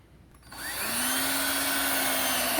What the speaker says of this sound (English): it's a lot easier to screw like he's doing now than doing it above your head